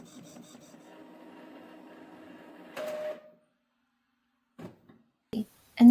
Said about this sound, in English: With my Epson Eco printer, they come out beautifully.